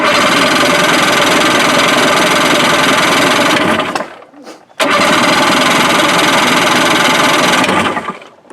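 Rebuilt Sea-Doo GTX 657 personal watercraft engine running loud and rough for about four seconds, dropping out briefly, then catching again and revving steadily before cutting off near the end.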